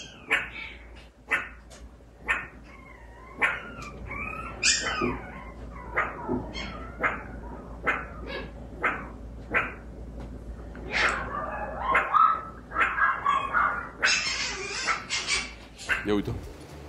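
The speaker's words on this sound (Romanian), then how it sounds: "îi aude pe frățiorii lui căței și latră și el" A pet meerkat raised among Pomeranian puppies gives repeated short, sharp barking yips in bursts across the clip, close and fairly loud, with people talking and reacting around it.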